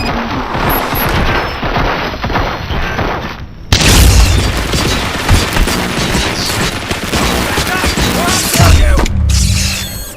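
Loud, dense gunfire and booming explosions from a shootout in the video game RoboCop: Rogue City, with sustained bursts and heavy impacts continuing almost without a break.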